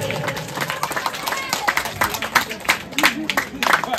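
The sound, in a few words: audience clapping at a trophy ceremony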